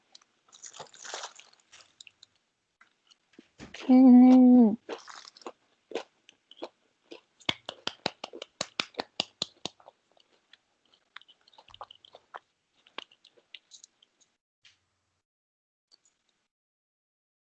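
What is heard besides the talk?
biting and chewing crunchy vegetable tempura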